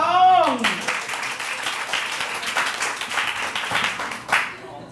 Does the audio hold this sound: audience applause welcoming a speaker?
yes